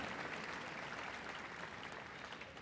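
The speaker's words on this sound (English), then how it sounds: "Massive round of applause for John and Rory" An indoor audience at a Crufts dog activities display applauds the handlers. The clapping is steady and fairly faint, continuing evenly for the whole stretch without voices.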